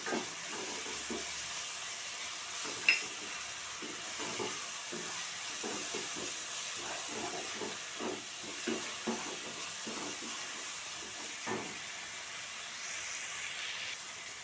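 Prawn biryani masala frying in a pan, a soft steady sizzle and hiss with scattered scraping stirs, faint and close, with no one talking.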